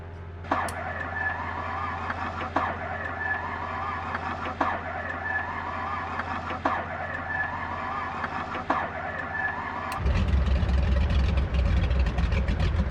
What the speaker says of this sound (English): And let's engage the starter.